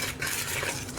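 A spoon scrapes and stirs a spice mix in a bowl for blooming onion, a brief, close run of busy scraping and clinking.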